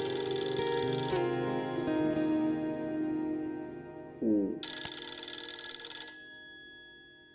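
A telephone rings in a Pakistani drama scene, a steady electronic bell tone sounding in two long bursts separated by a pause, fairly loud and clear with a brief low thump between them.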